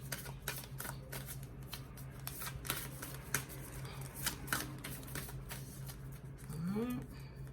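A large deck of oracle cards being shuffled by small hands, producing rapid repeated riffling and slapping bursts in an even rhythm, fairly quiet and close, with a voice speaking at times.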